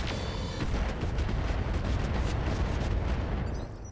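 Mech weapons fire in the video game RogueTech in a dense, continuous barrage of booming blasts and rapid bursts, loud and sustained before trailing off at the end, with no talk over it.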